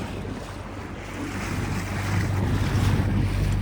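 A small fishing boat off Balıklıova, İzmir, heading out before dawn, with a steady motor hum under wind buffeting the microphone and water rushing along the hull, growing louder toward the end.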